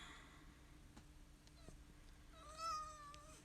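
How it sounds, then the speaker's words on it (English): A house cat meows faintly indoors, with a single drawn-out, wavering meow arriving near the end over a quiet room hum. "my cat is, of course, coming in here and meowing"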